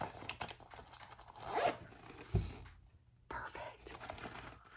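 Zipper on a handmade sewn eyeglass case pouch, a quick rasping pull around mid-clip followed by a short sharp snag, close by with soft background noise and a light whisper-like voice.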